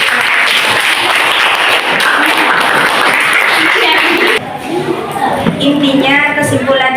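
A group claps hands during a school guidance-group session on bullying, with dense, loud applause for about four seconds before it fades and a voice speaks.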